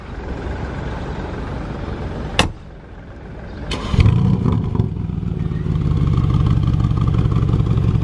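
Mercedes G63 AMG starting up on the Place du Casino in Monaco: a couple of sharp clicks and clatter, then the engine catches with a burst and settles into a loud, steady rumble close by.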